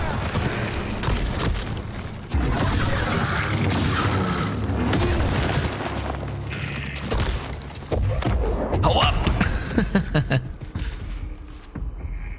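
Explosions boom and thud through a Star Wars Jedi: Survivor combat scene as many small enemies attack, loud blasts and fusillade-like bursts layered over game score, with several heavy hits across the stretch.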